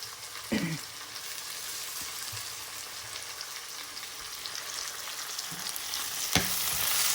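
Onions frying in a pan for bitter gourd thiyal, a steady close sizzle with occasional clinks of stirring.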